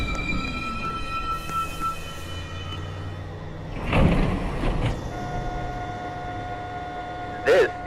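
A downtown local 1 subway train approaching the station, with a rising rumble, tonal squeals and ringing hums, plus a short loud burst near the end.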